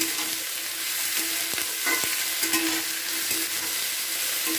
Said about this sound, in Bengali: দিয়ে খুব ভালো করে এবার কিছুক্ষণ নাড়াচাড়া করে নিচ্ছি